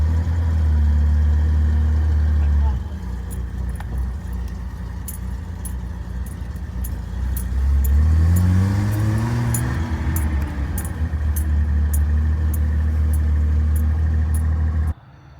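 A Nissan Patrol with an L28 engine tows a trailer, its engine a steady, close drone that climbs in pitch once partway through, with faint light ticking above it throughout.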